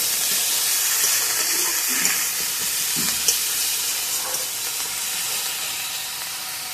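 Sliced onions with a little sugar sauté in a pan with a steady, close hiss and sizzle, joined now and then by faint stirring scrapes.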